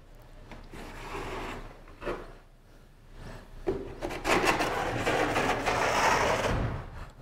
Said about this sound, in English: that's going to be your standard 1250 trowel